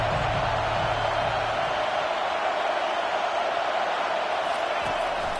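A stadium crowd in an American football video game gives off a constant, loud, dense roar of massed voices that holds steady throughout.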